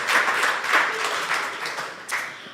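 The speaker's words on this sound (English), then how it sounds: "I got an applause for getting something right." An audience at a live radio show claps and cheers in a sustained burst of applause that gradually thins out over a few seconds, with a brief swell near the end.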